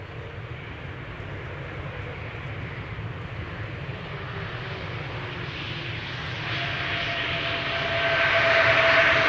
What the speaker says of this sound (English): This is Aegean flight 3624 arriving from Athens, A321neo, 2 years old, first flight February 2022.